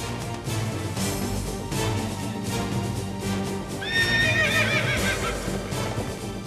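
Horses neigh in a bright, quavering call midway through while hooves clip-clop steadily beneath it, set against a dense, busy background of movement.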